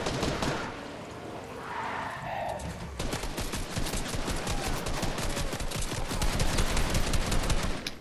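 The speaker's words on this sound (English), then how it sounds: "Jacob, stop shooting the lava!" Rapid bursts of automatic gunfire in Fortnite, fired at lava, rattling loudly and continuously through most of the stretch after a brief opening lull, with voices talking faintly underneath.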